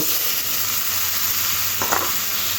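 Potato pieces fry in oil with turmeric and chili powder as they get stirred, making a loud, continuous close-up sizzle with a brief scraping stir near the end, and no voices.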